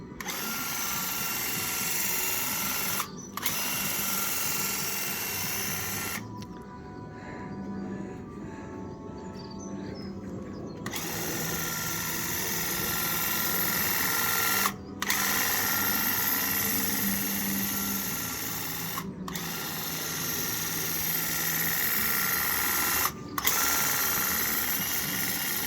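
A Graco airless paint sprayer hisses steadily as it coats under-stairs cupboard doors, a loud continuous spray broken by a few short pauses and one longer gap where the trigger is released.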